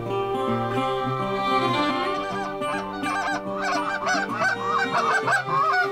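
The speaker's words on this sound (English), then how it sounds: "look at that big old Nebraska Canada goose" A Canada goose honks repeatedly at a goose and duck pit blind in Nebraska farmland, loud nasal calls overlapping in quick bursts with no talk over them.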